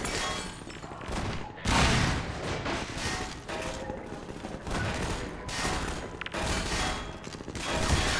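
Gunfire fills a video game combat map, with dense bursts of shots and automatic fire and scattered heavy thumps, continuous and loud.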